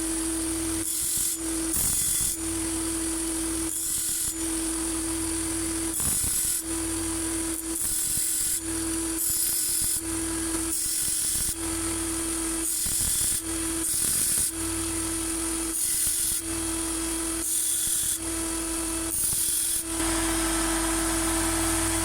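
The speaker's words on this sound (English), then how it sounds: "Quickest way I found to do these is with my little belt sander." A small belt sander runs steadily while Makita DUH601Z hedge trimmer blades are pressed against it in short repeated passes, giving a rough grinding rasp that rises and falls with each stroke over a constant motor hum.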